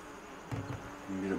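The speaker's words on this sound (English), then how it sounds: "That's your buzzing." Live bees trapped in a bag buzz faintly in short irregular bursts, close and quiet, with no talking.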